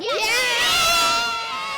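Schoolchildren in a big crowd at a street parade let out a loud, sustained chorus of high shouts and cheers that swells and fades over a couple of seconds, close and dense.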